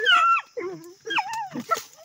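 A dog whimpers and whines at night in high, wavering cries, a few short bursts close by with brief pauses between them.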